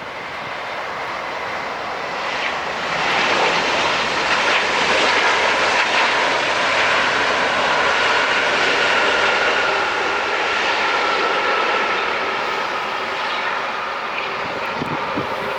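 A Qantas jet airliner lands at LAX as a broad, loud engine roar swells, holds steady for several seconds, then eases off slightly. No voices.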